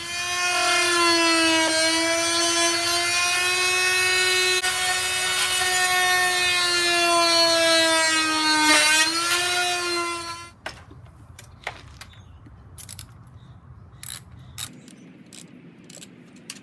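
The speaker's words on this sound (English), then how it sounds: "I'm just going to cut that plastic piece and angle it out from around that hole so I can get my bolt in." A plastic piece on a motorcycle rear fender is cut with a loud, steady, high-pitched motor whine that holds for about ten seconds, then stops, leaving scattered small clicks and handling noises.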